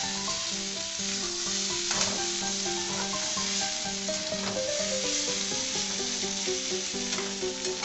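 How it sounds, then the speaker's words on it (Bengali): Potatoes for a Bengali potato curry sauté in a pan with a steady, close sizzle and repeated scraping stir strokes, while soft background music plays throughout. "এই যে এখন কষার পর্ব চলছে, একটু কষতে সময় লাগবে ব্যাপারটা।"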